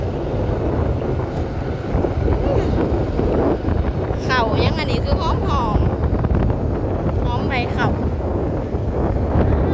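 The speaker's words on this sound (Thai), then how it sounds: "ลมพี่น้องเอ้ย" Strong wind blusters steadily across open rice fields in Laos, a constant roar of gusts buffeting the microphone while someone talks over it throughout.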